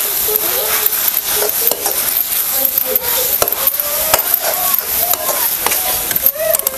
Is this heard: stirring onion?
yes